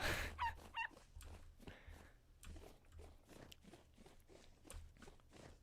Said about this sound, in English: Oh, wolf puppy.